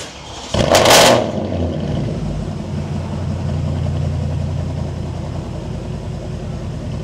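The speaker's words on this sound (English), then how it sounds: "Let's see how she sounds. Cat delete, muffler delete, straight pipe, Porsche Cayenne V8." A Porsche Cayenne S 958 V8 with cat, muffler and straight-pipe exhaust barks loudly to life, then settles into a deep, steady, rumbling idle close by, with no talking.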